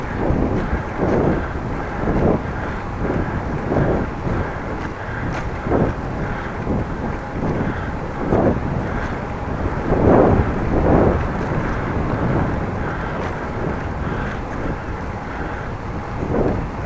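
Strong countryside wind buffets a microphone while cycling, producing loud, rumbling low gusts that surge and ease in repeated bursts throughout, with no voices.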